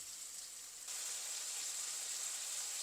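Brinjal masala with salt sautéing in a pan, a steady quiet sizzle that grows slightly louder after the first second and then holds even, with no talking.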